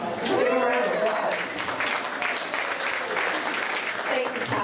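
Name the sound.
audience applause at studio tour show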